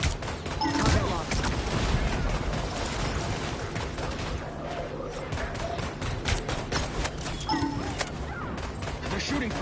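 Rapid gunfire bursts in the Marvel Rivals hero shooter, dense and continuous through the scene, layered with impacts and game effects while a player talks over it.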